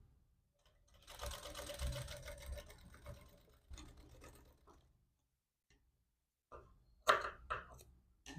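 A sewing machine stitches a folded quarter-inch hem on a back-open princess-model jacket, whirring steadily and close for a few seconds, then pausing before short bursts of running and mechanical clicks.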